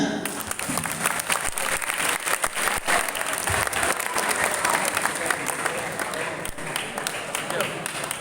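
Audience of students at a Ramadan Islamic study session at a pesantren bursts into applause, dense loud clapping with scattered sharp claps and crowd noise, some voices mixed underneath.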